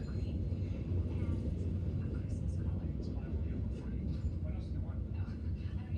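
CSX freight train 930 with mixed freight cars, center beams and a mid-train DPU passing and picking up speed, a heavy low rumble with rhythmic rail clatter over several seconds.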